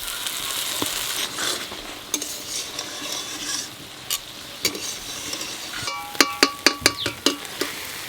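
Spices with tomato, salt and turmeric stir-fried in a pan for an unripe jackfruit and prawn curry, a steady sizzle under scraping and clinking strokes that quicken into sharp rhythmic taps near the end.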